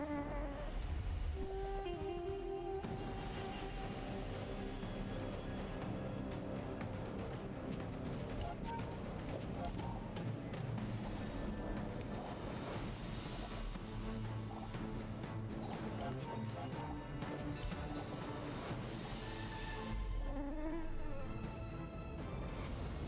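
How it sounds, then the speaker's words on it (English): A Giant Mosquito in a video game gives a dense, continuous insect buzz mixed with crashes, impacts and busy game effects, loud throughout. "I think the Giant Mosquito sounds best."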